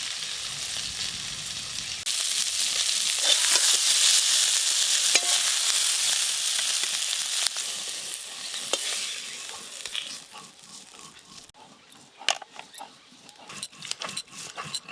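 Shrimp fry lightly in mustard oil, a strong hiss jumping up as they hit the pan and holding steady, then easing into quieter sizzling with sharp scrapes and clatters of stirring.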